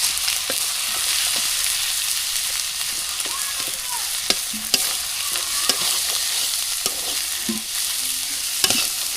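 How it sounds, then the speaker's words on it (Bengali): Onions and spices frying in oil, stirred in a pan: a constant bright sizzle with scattered spoon scrapes and clicks, close and fairly loud, no talking. "এখানে একটু তেল এবং পেঁয়াজের মধ্যে সব কিছু নাড়াচাড়া করে নেই"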